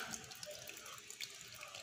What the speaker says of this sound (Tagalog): Yan, medyo lumakas yung tulo.